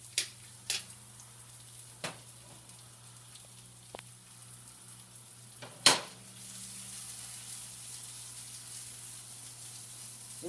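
Mushrooms and red onions frying in a pan give a steady, faint sizzle and crackle, punctuated by a few sharp clinks and taps of utensils, with the sizzle swelling slightly louder toward the end.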